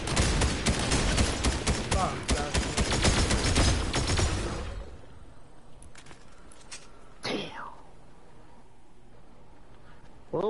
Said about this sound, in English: Shoot him, shoot him, Joshua.